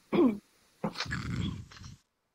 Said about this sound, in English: There's the dog